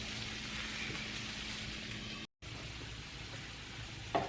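Potatoes frying in a pan for picadillo, a steady soft sizzle and crackle of hot oil running throughout, briefly cutting out for a moment before resuming with a faint clink near the end.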